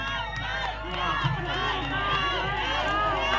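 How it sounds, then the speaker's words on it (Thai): A crowd at an outdoor political rally for the Move Forward Party in a housing community cheers and shouts loudly to welcome arriving politicians, many overlapping voices rising and falling in a sustained roar. "ก็มีพี่น้องต้อนรับกันเสียงอื้ออิงกันเลยนะครับ"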